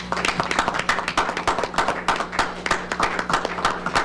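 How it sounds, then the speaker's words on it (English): A room of people at a school board meeting claps in a dense round of applause, steady and fairly loud for several seconds, with no talk over it. "round of applause for increasing that"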